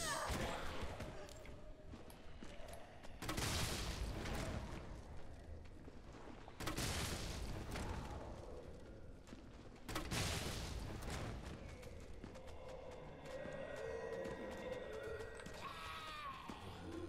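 Grenade explosive rounds fired in Resident Evil 3, three loud booming blasts spaced a few seconds apart, each with a long rumbling decay, followed by game noise and faint background sounds.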